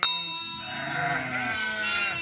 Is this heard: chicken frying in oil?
no